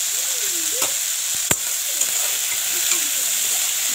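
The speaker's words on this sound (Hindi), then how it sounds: "ये सब्जी को मैं छोक दिया।" Potatoes and beans fry in hot oil with a loud, continuous sizzle and a few sharp scraping clicks of stirring, close by and with no one talking.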